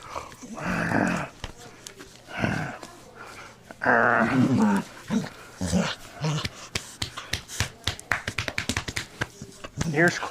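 A playful pet dog growls and makes throaty, Wookiee-like grumbling noises in bursts, then a rapid run of tapping sounds follows, with no words spoken.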